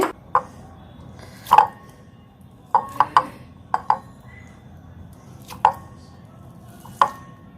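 Boiled potatoes being mashed in a bowl for crispy potato fingers, a series of soft, separate squishing thumps at irregular intervals over a quiet background.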